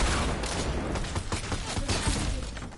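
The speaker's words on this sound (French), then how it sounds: "Oh, on me tire dessus." Rapid gunfire in a video game tournament match as the player comes under fire, dense overlapping shots forming a loud, continuous burst over about three seconds.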